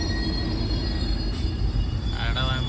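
The Karwar Express rolls along the Mangaluru to Yesvantpur line with a steady close rumble of wheels on track, and a faint squeal rises near the end.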